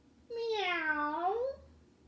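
A voice imitates a cat's meow in a single drawn-out, rising-then-falling mew, clear and close but fairly soft, with no other talk around it.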